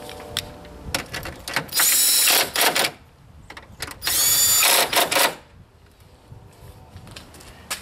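A power tool drives bolts back onto a 2009 Buick Enclave engine during a coolant temperature sensor replacement, with two loud whirring bursts of about a second each, surrounded by clinks and handling noises.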